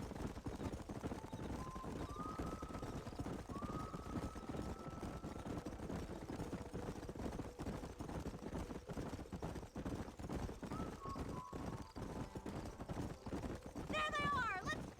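Horses gallop in Red Dead Redemption as a steady rapid clip-clop of hooves runs throughout, with a sharp whinny near the end. Voices and game sounds mix in over the hoofbeats.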